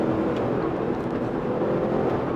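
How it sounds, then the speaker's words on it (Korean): Lincoln Navigator SUV with a 446-horsepower engine in sport mode and four-wheel drive, accelerating hard, its engine a steady deep roar heard from inside the cabin, loud and continuous with no speech. "엔진 소리가 제법 웅장하게 들리죠."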